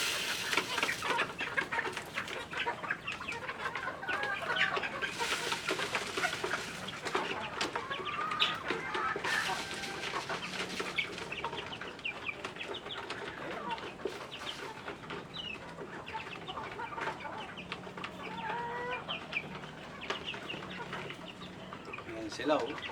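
Layer hens on a farm clucking and calling all around, a busy, fairly quiet flock chatter with scattered sharp squawks, heard alone without speech.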